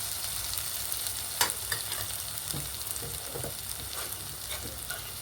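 Gongura leaves fry in oil already cooked with salt and chili for an Andhra-style gongura prawn dish, giving a loud, dense crackling sizzle with scraping stir strokes and one sharp clatter early on.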